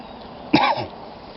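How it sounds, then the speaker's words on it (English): A single short, close cough breaks a quiet background, then fades quickly. "Guarantee I'm gonna cough like a bitch too"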